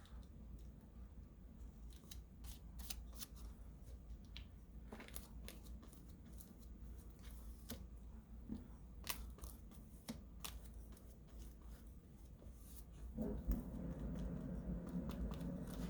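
Paper being trimmed for collage work in an art journal: a run of quiet, crisp scissor snips and light paper crinkles repeating at an uneven pace, close by, with no talking.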